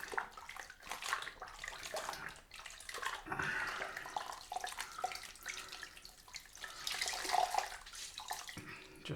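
Running water splashes steadily from a sink tap as lather is rinsed off a hand or face towel during a wet shave, a continuous close hiss with shifting splashy texture.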